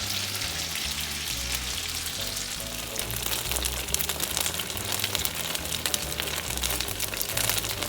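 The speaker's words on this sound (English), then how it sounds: "I am letting these polenta circles cook for about 5 minutes on each side" Polenta circles fry in oil in a pan, giving a steady, close crackling sizzle with dense popping over a low background hum.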